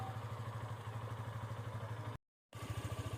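A Yamaha FZ motorcycle engine idles steadily nearby with a low, even pulsing throb, briefly cutting out before the same rhythmic idle resumes.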